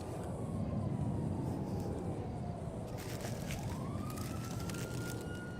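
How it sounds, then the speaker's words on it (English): Police sirens wail in a video game roleplay server, rising and falling with a continuous distant tone over a dense, rumbling background, with no one talking. "all you hear is police officer sirens"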